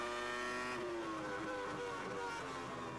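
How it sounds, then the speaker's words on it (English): A Formula One car at the 2002 German Grand Prix shifts up early at lower revs. The engine whine is heard from a distance, stepping down in pitch through the gears, faint and steady. "he's changing up very early now. You could hear using much less revs."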